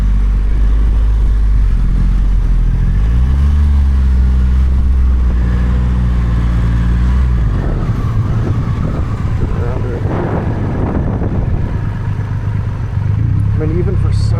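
Triumph Rocket 3 motorcycle ridden slowly through town: a loud, close engine rumble with wind buffeting, the pitch rising and falling as the bike eases along while the rider talks.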